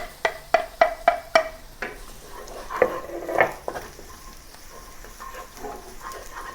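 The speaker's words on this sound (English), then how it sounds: "Add the garlic halfway sauteing the onion." Onion with garlic added partway through, sautéing in a pan for Chinese tomato soup noodles: a run of sharp utensil clacks opens the clip, then a softer, steady sizzle continues close by without talk.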